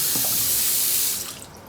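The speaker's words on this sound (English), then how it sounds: "First of all, you turn the water on." A bathroom tap runs steadily into a sink for handwashing, a loud, close, continuous rush of water that eases slightly toward the end, with no voices.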